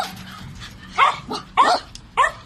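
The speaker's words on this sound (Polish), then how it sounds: "Sześć psów i psów, psów zamkniętych w tej dziurawej budzie." Several dogs shut in a leaky, run-down kennel barking in short bursts, four loud nearby barks over a low background of other yips and whimpers, with no talking.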